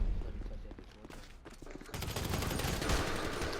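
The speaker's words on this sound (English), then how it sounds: "Bro, stop using a minigun." A minigun in a video game fires sustained rapid bursts that turn into a dense, continuous rattling roar in the second half, fairly faint in the mix, with players talking.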